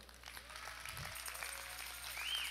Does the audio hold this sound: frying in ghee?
no